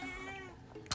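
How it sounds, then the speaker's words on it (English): A pet cat meows in a home crafting space, a drawn-out tonal cry followed by a brief sharper sound, fairly close and alone without talk. "pardon my cat meowing in the background."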